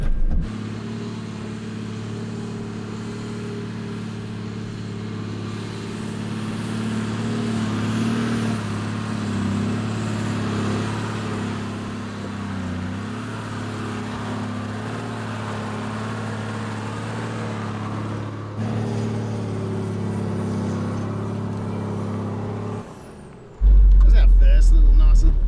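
Toyota Prado 250 crawling up a steep rocky track in first gear low range, its engine a steady low drone with tyre and chassis rumble under occasional talk, the pitch rising slightly with effort before cutting off near the end.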